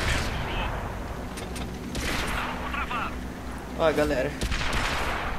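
Tank cannon fire in World of Tanks, with repeated booming shots and mechanical clanks amid battle noise, under someone talking.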